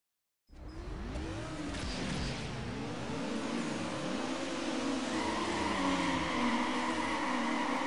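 Need for Speed Underground race car launching off the start line of a quick circuit race, wheels spinning as the engine revs steadily and climbs in pitch, loud and continuous for several seconds.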